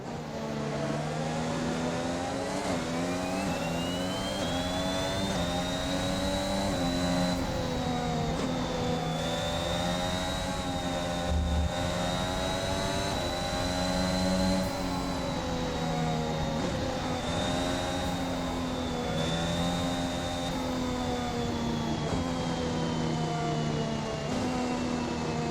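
Formula 1 engines in the F1 21 video game at the race start in Baku, a loud, constant high-pitched whine with revs rising and falling slightly, many cars blending into one piercing drone.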